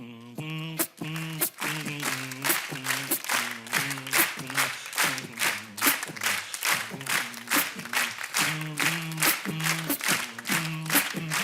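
An audience at a French comedy show claps in a steady rhythm, the claps close and regular, alongside vocal beatboxing and tonal sounds.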